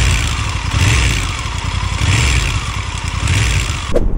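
Motorcycle engine running, a Honda Africa Twin with a faulty part, a loud, close, throbbing low rumble with pulsing rhythm, ending in a brief rev or clunk.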